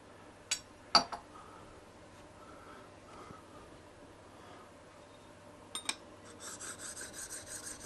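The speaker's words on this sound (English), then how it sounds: "Let's sharpen the blade." A hand plane blade is sharpened: faint scattered rasping strokes with a few sharp clinks near the start, then a denser run of rubbing strokes toward the end, quiet and close.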